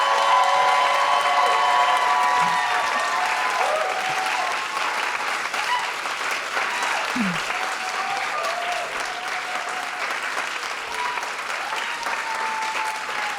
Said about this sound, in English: audience, I want you to give them the loudest applause you can to carry them in